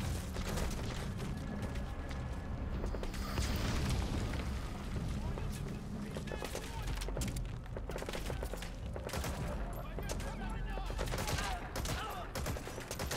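A Metal Gear Solid 5 firefight, with rapid bursts of gunfire and heavy booming blasts including a frag grenade explosion, dense and continuous at close range, while someone talks over the combat throughout.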